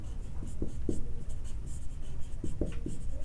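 A pen writes on paper while working a sixth-grade math exercise, producing continuous soft scratching with faint taps and short strokes, close and quiet, with no one speaking.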